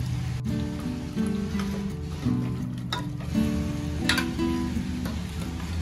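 Boiled mutton frying in masala, steady crackling sizzle from the pan close by, with occasional sharper pops and stirring scrapes over a background music bed, no talk.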